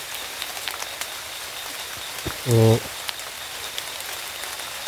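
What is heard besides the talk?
heavy rain falling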